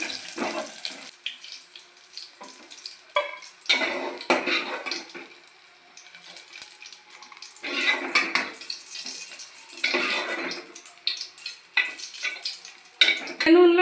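Cumin seeds hiss and crackle in hot oil in a pan while green chillies are lifted out, during home cooking of an old-style chutney. Sizzling bursts rise and fade with scraping stirs, close and moderately loud, with no talk.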